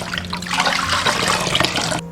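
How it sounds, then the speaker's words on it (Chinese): A whole three-yellow chicken is rinsed in clean water in a home kitchen, giving a steady, close splashing and running-water wash that fills the whole stretch before stopping abruptly at the end. "准备一只三黄鸡，然后我们放入清水中，给它清洗干净。"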